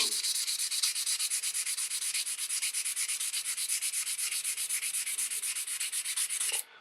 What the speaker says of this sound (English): So I'm just going to start by going in one direction with the 320 grit.